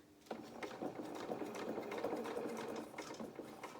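A sewing machine stitches slowly around the curved neckline of a small opera coat, a steady close mechanical whirr with rapid needle ticking for a few seconds.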